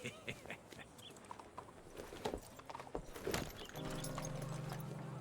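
Horse hooves clip-clopping in the video game Red Dead Redemption 2, a series of irregular hoof knocks at moderate distance followed by a steady low humming tone in the later part.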